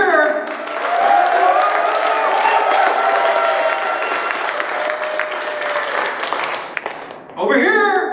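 A large crowd at a Shark Tank event in San Francisco cheers and applauds loudly in a sustained roar of clapping and shouting, with voices calling out over it and a brief drop before a final burst.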